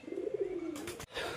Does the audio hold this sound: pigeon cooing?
yes